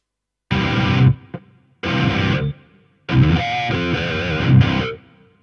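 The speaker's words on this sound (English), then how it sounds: "I was just checking to see the noise gate to see if it was closing it quickly enough" A distorted electric guitar runs through a Harley Benton DNAfx effects unit, playing three heavy chugging bursts with chords. A noise gate cuts each burst to clean silence.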